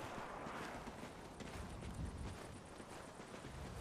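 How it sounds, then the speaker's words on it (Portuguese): Strong wind gusting in the Call of Duty: Ghosts video game, a low, steady rushing roar that swells slightly midway, with no voices over it. "O vento tá ficando forte."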